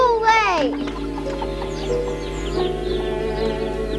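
Chickens clucking and calling in a cartoon yard scene, a burst of squawks at the start followed by scattered lighter clucks over a steady tonal background, with a voice speaking.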